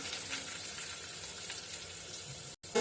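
Cumin, mustard seeds, chopped onion, chilli and curry leaves frying in hot oil for kanda poha, a steady broadband sizzle throughout that cuts out briefly near the end before resuming.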